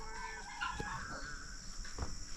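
Farm chickens clucking, with short, soft calls from a few birds close by over a faint, low background hum.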